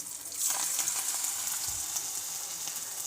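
Coriander leaf fritters fry in hot oil until red and crisp, giving a steady, close sizzle with a bright hiss and faint bubbling throughout.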